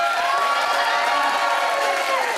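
Improv show audience cheering and whooping in a steady, loud crowd roar with high shouts on top, continuous throughout.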